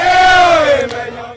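A street crowd at Governor Njuki's event lets out a loud, sustained chanting shout that holds one sliding pitch for about a second, then fades out.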